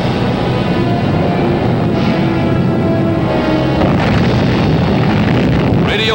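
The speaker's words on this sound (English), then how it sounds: "prepare for an underground atomic explosion, the first ever photographed" Underground atomic explosion from a weapon as powerful as 1,000 tons of TNT, heard as a continuous loud broadband roar and rumble with low booming and windy noise throughout, no speech.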